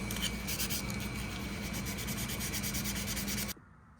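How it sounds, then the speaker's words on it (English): Extra-fine 400 grit sandpaper rubs steadily over the blade of a vintage 1970 USA-made Case XX knife, a continuous close, even scratchy hiss that stops abruptly near the end. "Now I'm gonna follow it up with a 400 grit or 400 grain extra fine. I'm just gonna go over the blade."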